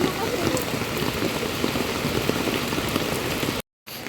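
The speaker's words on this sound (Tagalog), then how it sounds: "Ang lakas talaga ng ulan, grabe." Heavy rain pours down in a dense, loud, continuous hiss and patter, then cuts to brief silence near the end.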